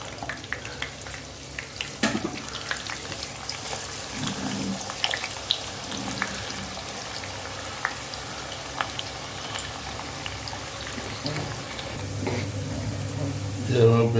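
Medium-sized onion frying in hot oil gives a soft, steady sizzle with scattered crackles and pops, heard up close under a voice speaking throughout.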